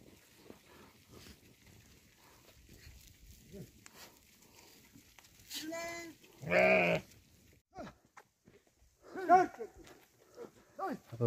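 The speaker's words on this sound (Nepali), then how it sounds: "अब भेडाहरू जङ्गल फस्दैछ अब" Sheep bleating while grazing in a forest pasture in Nepal, several loud bleats from close by breaking through quiet outdoor ambience, with someone speaking intermittently.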